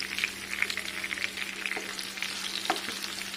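Green chillies and a piece of tamarind frying in a pan for a hot green chilli chutney, a continuous crackling sizzle with faint stirring scrapes, close and alone without talk.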